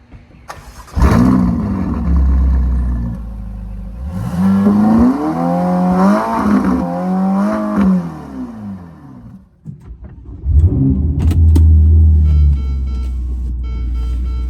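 A Ferrari GTC4Lusso T in comfort mode fires up with a loud, close engine rumble, then revs and settles through several swells before a second surge of deep engine noise.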